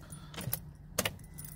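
Car keys jangle in the ignition of a Volvo XC90 D5 AWD, a few quick faint metallic clinks and a brief click at close range in an otherwise quiet car.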